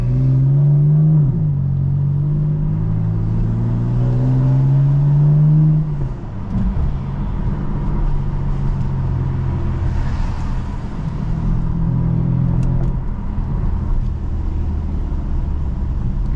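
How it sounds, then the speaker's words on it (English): A tuned BMW F82 M4 drives along, its engine a deep, steady drone that climbs in pitch during an opening rev. It then settles into a continuous low rumble with road noise, heard from inside the car. "I'm pretty happy to be driving my car"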